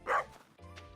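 Pet dog in a video game giving a single sharp bark up close, followed by softer whimpering yips.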